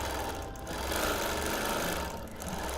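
A sewing machine quilts the border of a custom Quilt of Valor, running a dense, fast, continuous stitching rattle close up and at a steady level.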